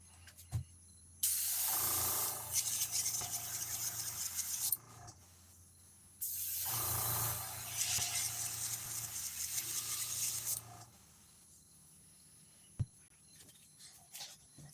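An aerosol can sprays paint onto a freshwater or sea fishing lure in two long hissing bursts of about three and four seconds, close to the microphone, separated by quiet pauses with faint clicks.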